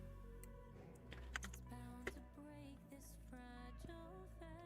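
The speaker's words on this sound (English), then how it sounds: "I gotta type all that over again" Quiet clicking of fingers typing on a computer keyboard, in irregular bursts of keystrokes faintly heard against a steady background hum.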